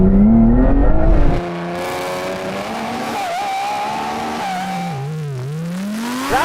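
A Lamborghini roars down the strip in a drag race against an M3, its engine note climbing steadily through the gears with tire squeal at the launch, loud and close throughout with no voices.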